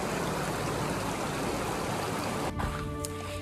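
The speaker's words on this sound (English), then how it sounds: "and the river is flowing." A mountain river flowing strongly after a hail storm near Mt. Whitney, a dense steady rush of water close by that sounds alone, with a slight shift near the end.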